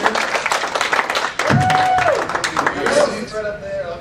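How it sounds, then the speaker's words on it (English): A crowd claps for a guest at the CoreCon 2012 convention, a dense patter of applause from a medium distance while a voice speaks over it. "Give her a big round of applause, ladies and gentlemen."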